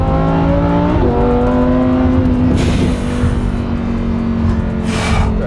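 A Lamborghini Huracan Evo revs hard after a downshift into second gear, its engine note climbing in steady harmonic sweeps, loud and close, with brief bursts of exhaust crackle or tyre roar.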